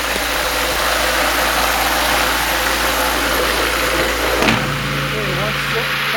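A Lyman Auto-Flo 1200 brass tumbler switched on with its lid closed, giving a steady, loud mechanical hum and rumble that continues throughout, with a brief knock near the middle and a low drone settling in afterward.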